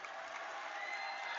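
The home crowd at a boys high school basketball game roars in a dense, sustained wash of cheering and shouting filling a gym, steady and loud throughout.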